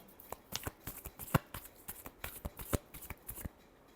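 Tarot cards are shuffled by hand in a quick run of crisp, riffling flicks and soft slaps, close and fairly quiet, with no talking.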